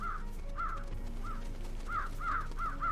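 Crows caw repeatedly in the Trüberbrook video game, the harsh calls coming in uneven pairs and clusters over a steady low ambient hum, with no voices.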